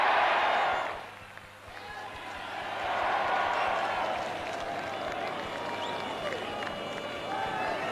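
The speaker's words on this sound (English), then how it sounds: "I would like you all to give them a rousing cheer." A large stadium crowd at the 1981 All-Ireland senior football final between Kerry and Offaly roars and cheers for the Offaly team in a broad, distant wash of sound that swells again after a brief dip, with voices mixed in.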